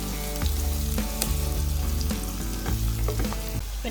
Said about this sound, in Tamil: கறிவேப்பிலை, பச்சை மிளகாய் ரெண்டையும் போட்டு வெங்காயத்தோட மிக்ஸ் பண்ணிக்கொள்ளுவோம்